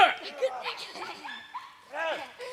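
Hunting dogs on a French communal hunt yip and bark in short scattered bursts, mixed with whimpers, while someone talks over them close by.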